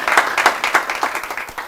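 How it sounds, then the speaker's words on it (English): A short burst of audience applause greets potential CEOs at an event: close, loud hand claps with distinct individual claps in an uneven rhythm, lasting under two seconds. "welcome these potential CEOs by giving them a hand clap."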